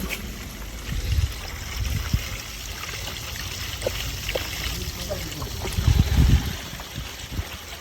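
Borewell water from a motor-driven pump trickling and gurgling through a sand filter under a continuous low mechanical hum, with a few louder surging splashes; no talking.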